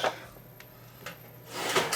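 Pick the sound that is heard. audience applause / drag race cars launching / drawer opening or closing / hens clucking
drawer opening or closing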